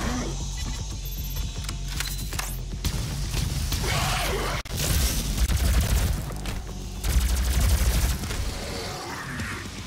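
Stone bomb weapon fire in DOOM, heavy booming blasts and whooshing impacts over a dense, continuous game soundtrack, loud and close with a sharp cut midway.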